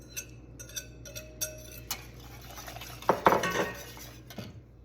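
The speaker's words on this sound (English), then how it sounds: "You just gotta keep stirring." Pudding being stirred in a saucepan on the heat, with a few light clinks of utensil against the pan, soft scraping and a brief louder clatter near the end, close up and with no talking.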